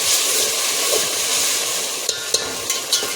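Ginger and garlic fry in hot oil in a pot with a steady close sizzle and hiss, broken by a few brief stirring scrapes near the end.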